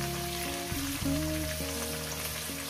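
Potatoes frying in a pan with salt and turmeric give a steady close sizzle, with steady tones running underneath throughout.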